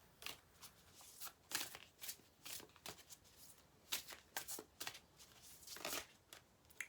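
Starseed Oracle cards shuffled by hand in quiet, close-up bursts of riffling and sliding, several short flurries spread across the moment with soft pauses between them.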